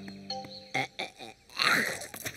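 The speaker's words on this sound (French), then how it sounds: "Qui c'est qui va faire son petit rot?" A cartoon baby burps after feeding, a short run of gurgling, grunting burp sounds building to a louder, longer belch near the end, close and clear with no talking over it.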